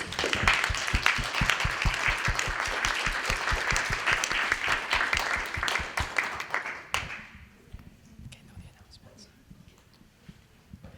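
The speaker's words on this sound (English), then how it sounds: "And if everyone can give her a round of applause" Applause for a scholarship recipient at a Korean American civic association internship and scholarship ceremony: a lively burst of clapping with some distinct close claps that dies away after about seven seconds, leaving a quiet room with scattered small sounds.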